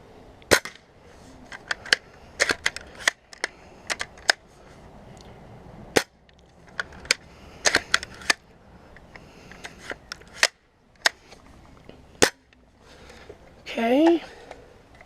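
A BB gun fired repeatedly at a basketball hoop, giving sharp snapping shots spaced irregularly over the span, some in quick pairs. A short voiced sound comes in near the end.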